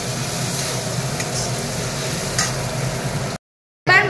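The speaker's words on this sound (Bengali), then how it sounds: "এবার টমেটো কুচিটা দিয়ে দেব। দিয়ে মশলার সাথে ভালো করে কষাবো।" Chopped tomato fries with spices in a pan, a close, busy sizzle broken by scraping stirs, then a sudden cut to silence before a short burst of sizzling returns.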